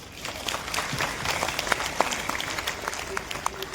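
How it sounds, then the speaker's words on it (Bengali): Applause from an audience in an auditorium during a ceremony handing out wheelchairs and identity cards to people with disabilities, a steady crackle of many hands clapping throughout at moderate level. "সকলকে আমি একটু জোরে তালি দিতে বলবো"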